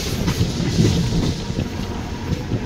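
Train running on tracks through a valley in India, its wheels giving a steady clickety-clack over the rails with a loud, close rumble and occasional sharper knocks.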